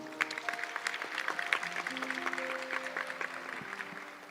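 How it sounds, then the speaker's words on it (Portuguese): A church congregation applauding, a soft, steady patter of many hands spread through the hall, with sustained organ or keyboard notes playing underneath and no voice standing out. "Vamos aplaudir a palavra do Senhor?"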